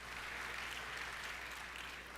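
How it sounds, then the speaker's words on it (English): An audience applauds cadet athletes and Black Knight Award winners at an awards ceremony, giving steady, even clapping that stays fairly soft and distant throughout, with no voices over it. "How about a round of applause for all these special cadet athletes"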